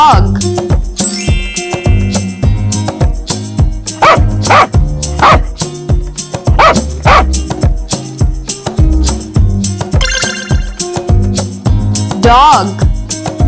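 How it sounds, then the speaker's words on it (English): A dog barks several times in quick yips over a loud, bouncy children's music track that continues throughout. "Dog."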